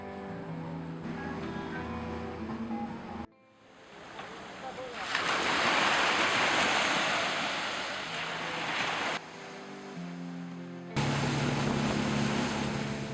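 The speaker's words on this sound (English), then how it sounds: "Conditions were sporty, little windy, rough waves," Gusting wind buffets the microphone as rough, choppy ocean surf slaps around a small sport-fishing panga off Costa Rica, loud and close, in bursts broken by brief cuts with music-like tones between.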